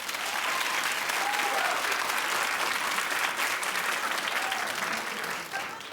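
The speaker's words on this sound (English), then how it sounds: "Clap if you do." Studio audience on a daytime talk show claps steadily, a dense, sustained burst of applause holding at even loudness for several seconds before easing slightly at the end.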